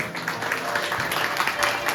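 Dense applause from a music concert audience, steady and fairly loud, with a voice faintly audible underneath, welcoming a violin student.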